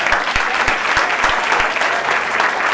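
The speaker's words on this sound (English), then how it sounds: "Oh, hey, a big round of applause, Erica Pennypacker." Applause from a comedy show audience for one of its members, loud and close, a dense burst of clapping with a few sharp individual claps standing out, sustained throughout.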